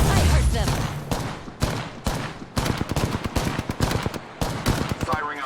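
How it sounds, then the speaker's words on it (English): Rapid gunfire in the video game Apex Legends: dense bursts of sharp shots crackle across the whole stretch with only brief gaps, loud and close. "Firing on subjects."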